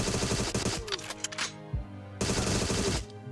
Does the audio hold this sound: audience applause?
no